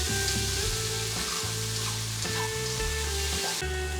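Cooked mushrooms sizzling in a pan as palak spinach goes in, a loud constant fry hiss with a steady hum and a few stirring bumps, no voices.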